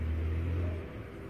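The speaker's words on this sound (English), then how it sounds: "Now my car's coming home" A car rumbles and revs nearby as it pulls up toward a house with a front veranda, its low engine drone steady then easing off slightly, with no talk over it.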